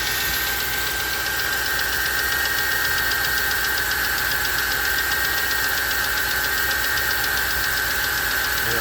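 A 2008 Ford F-150 XLT with a 4.6L engine idles with a fast, steady ticking knock from the left side, running constant and close with a high whine above the rattle and no voices.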